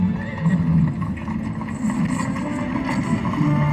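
A horse neighs over clopping hooves in a covered-wagon sound effect played loudly at an outdoor light show at the Washington Monument, a dense, continuous layer of sound.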